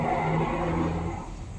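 A Singer portable sewing machine, freshly oiled at its joints, runs on its own with a steady, close mechanical whir and hum that eases off slightly toward the end.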